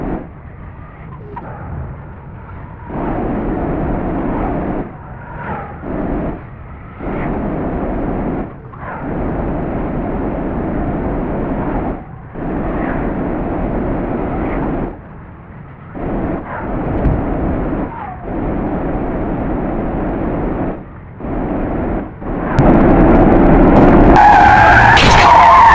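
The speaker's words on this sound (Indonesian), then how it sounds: "Detik-detik terjadinya kecelakaan beruntun akibat bus lepas kendali dan menabrak" In the game Bus Simulator Indonesia (bussid v4.3.2), a bus loses control and slams into a minibus, causing a chain collision. Long loud tire skids come in repeated bursts, building to a harsh, louder crash near the end.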